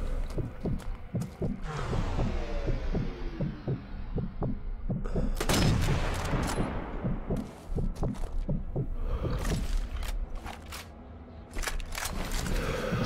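Machine gun fire in the video game Sniper Elite V2 Remastered, rapid bursts of sharp reports with booming echoes, some close and loud, others trailing off, repeating across the scene without talk.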